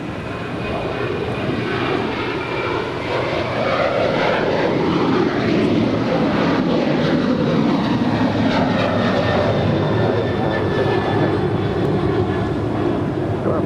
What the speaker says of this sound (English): next up is United Airlines flight 296 heading to Dulles and the 737-900ER